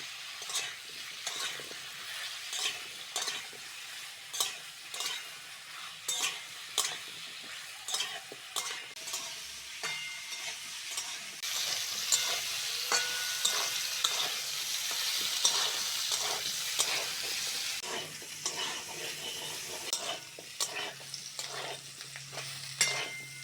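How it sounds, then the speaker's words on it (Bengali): Papaya, potato and green banana with a little turmeric fry in a pan, a soft sizzle broken by regular scraping stirs that swell into a louder hiss midway. "সবজিগুলো ভাজা হয়ে গেছে নামিয়ে নেব"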